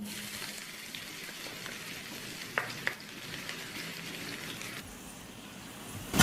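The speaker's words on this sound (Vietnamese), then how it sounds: "Bắt chảo lên và nóng chảo rồi thì em cho vào đây 2 muỗng canh dầu ăn." Cooking oil sizzles and crackles steadily in a hot frying pan while Vietnamese bún riêu is being prepared, a faint continuous hiss with a couple of brief sharper pops and clinks.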